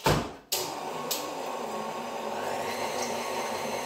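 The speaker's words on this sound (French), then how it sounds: "on va mettre tout ceci dans mon robot pâtissier à tourner" A stand mixer starts beating cream after a short clunk, settling into a steady, close mechanical whir with a faint high whine.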